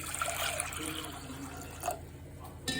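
Water pours into a pot of soaked lentils for drumstick leaf sambar with a steady splashing trickle and a few small drips, close by and fairly quiet.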